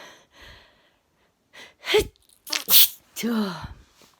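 A few sharp sneezes in quick succession, close and loud, with a breathy gasp leading into them and quiet shuffling before.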